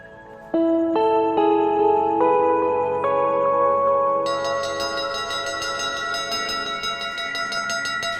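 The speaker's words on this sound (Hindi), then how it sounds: "हाँ तो 10 मिनट से घंटी कौन बजा रहा था मंदिर में?" Temple bell struck in a rapid series of ringing hits, each strike layering onto a sustained metallic shimmer that swells into a dense, loud wash of overlapping tones.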